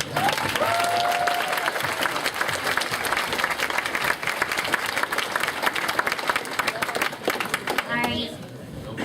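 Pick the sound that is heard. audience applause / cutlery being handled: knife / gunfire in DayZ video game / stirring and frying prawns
audience applause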